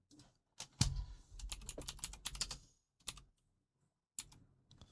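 Bursts of typing on a computer keyboard, close and clear, with rapid clustered keystrokes, a short pause, then a few more scattered taps and a final brief flurry.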